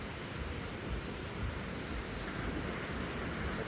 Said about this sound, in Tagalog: Hindi naman ganun kalakas yung alon.